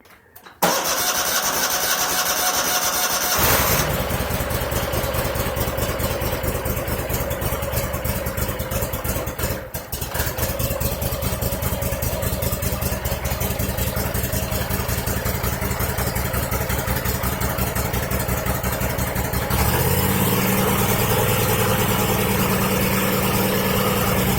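A 2001 Cub Cadet 3184 lawn tractor engine cranks and catches inside a shop, then runs loud and uneven with a rough, pulsing idle, hiccuping briefly midway and shifting pitch near the end.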